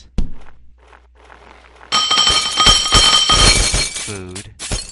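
In the Happy Wheels video game, a sharp knock is followed by near-silence, then a sudden loud crash of shattering glass that rings and clatters for a few seconds before a final burst.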